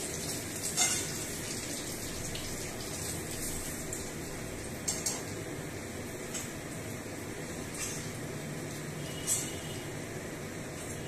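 Fish frying lightly in oil, a soft continuous sizzle with a few brief metallic clinks of a utensil against the pan scattered through it, fairly quiet and with no talking.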